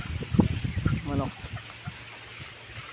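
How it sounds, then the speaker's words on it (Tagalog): A chicken clucks briefly nearby amid outdoor background noise, with a few scattered short sounds around it. "Manok."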